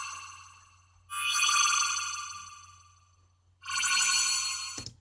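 Synthetic sound textures pitched up 100 percent, giving two bright, high, sustained tonal swells. Each sound rises in abruptly and fades slowly, with a short gap of silence between them.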